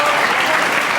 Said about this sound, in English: the crowd in the standing ovation